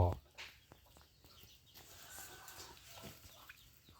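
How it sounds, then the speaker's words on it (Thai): A young golden pheasant, nearly a year old, gives a short clucking call at the start, followed by quieter rustling and faint bird sounds in a farm enclosure. "ตัวนี้ก็ไก่ฟ้าโกลเด้น หรือไก่ฟ้าสีทอง"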